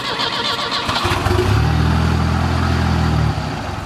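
A Honda Accord engine catches and runs, then revs up loudly in a strong, steady surge that holds for a couple of seconds before easing off, close by with no talk over it.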